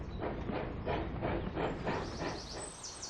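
A steam engine puffs hard and rhythmically while racing, quick repeated chuffs with hiss and rail clatter, moderately near but fairly quiet, and no voices.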